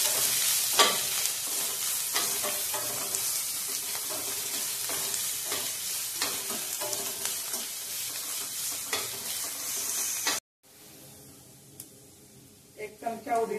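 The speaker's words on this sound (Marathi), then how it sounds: "कांदा, तेलात चांगला आधी भाजून घेऊया।" Chopped onion with chillies frying in hot oil for upma, a steady dense sizzle with frequent scraping stirs, and the sound drops out briefly near the end before faint sizzling resumes.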